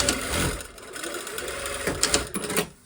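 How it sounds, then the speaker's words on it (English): A domestic sewing machine stitches a stay stitch within the seam allowance of a slash pocket, a steady fast mechanical whir with a brief slowdown near the end, loud and close, no talking. "putting in a little stay stitch within the seam allowance"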